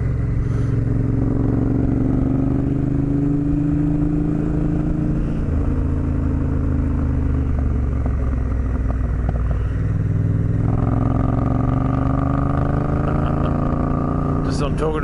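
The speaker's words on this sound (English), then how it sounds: "I thought the Tenere was a KLX who's going around the outside of me." Motorcycles ride in the wet as a Yamaha Tenere swings around the outside, a loud steady engine drone shifting in pitch with wind roar throughout. Engine tones rise near the end as the bike passes.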